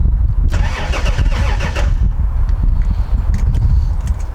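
A Toyota Supra engine cranking on its first start in 15 years: a rapid, rhythmic starter churn for about a second and a half, then a rough low idle-like rumble with clicks.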